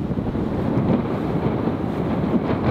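Wind gusts across a golf course at Ashburnham Golf Club and buffets the microphone, a loud, steady low rumble with no voices.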